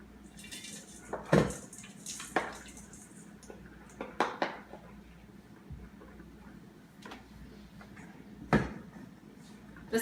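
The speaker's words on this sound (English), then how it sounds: "you'll basically be dumping all of this into a mixing bowl" Granola bar ingredients tumble into a mixing bowl in a home kitchen, with several scattered knocks and rattles against the bowl and soft clinks of utensils between them.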